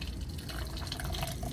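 Liquid acrylic paint mix pours steadily into a measuring cup, a soft, continuous trickling and filling sound heard up close and fairly quiet, with no talking.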